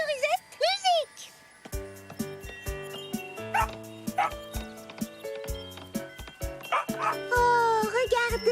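Two cartoon dogs bark and yip in rhythm with a bouncy dance tune, their sharp barks popping out over the music between a child-like voice at the start.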